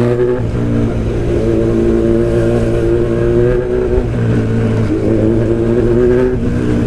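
An old motorcycle engine runs loud and close, its steady harmonic drone dipping twice as if faltering toward a stall before picking back up, continuous throughout with no voices.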